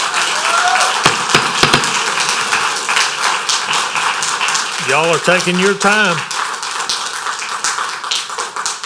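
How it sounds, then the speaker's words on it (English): Scattered applause and claps from an audience at a parish comprehensive planning public meeting, sharp individual claps and taps standing out while a person speaks over them nearby. "if you keep applauding, you're just eating into somebody's speaking time"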